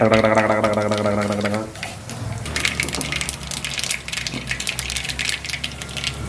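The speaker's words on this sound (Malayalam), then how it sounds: "ഇപ്പം നമ്മൾ ചൂടായ എണ്ണയിലേക്ക് കടുക് ഇടുവാണ്" Mustard seeds hit hot oil in a home kitchen while making fish curry; after a brief voiced, tonal opening, a dense, steady sputtering crackle fills the rest, close and fairly loud.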